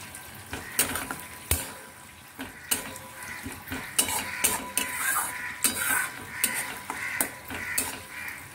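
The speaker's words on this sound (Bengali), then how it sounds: "এবারেও এটা দিয়ে ভালো করে আমাকে নাড়াতে হবে।" Utensil stirring doi katla, a Bengali fish curry in yogurt gravy, in a pan; repeated metallic scrapes and clinks in an irregular rhythm over a low sizzle, close and fairly quiet, with no talk.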